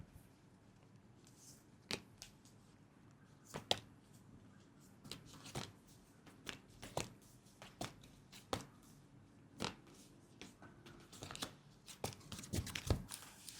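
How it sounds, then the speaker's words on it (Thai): Tarot cards are laid out one by one for a reading, producing scattered soft slaps and papery flicks at an irregular pace, with light shuffling rustles, quiet and close. "ขออนุญาตเปิดไพ่ให้คนวันอังคาร"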